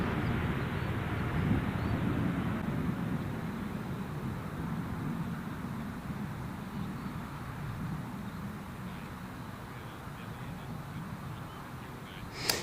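A fixed-wing airliner taking off at Gold Coast Airport, heard as a steady, broad engine roar that holds fairly loud throughout and eases slightly toward the end, with no talk.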